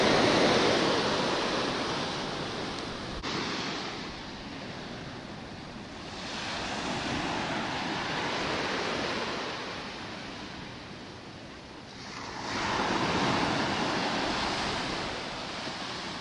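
Ocean surf rolling onto Maxwell Beach in Barbados, heard as a steady broadband wash that swells and eases in slow surges, close and continuous, with no voices.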